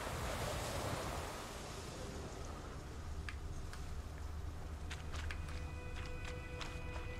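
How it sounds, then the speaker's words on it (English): Howling, gusting wind in the game The Witcher 3 by a riverside, a faint broad rushing wash with scattered soft clicks and taps over it. "Winds howling."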